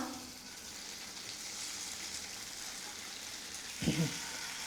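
Rice vadis dropped into hot tempering oil with turmeric and red chili powder in a pan: a steady fine frying sizzle throughout, with one brief louder splutter and clatter near the end.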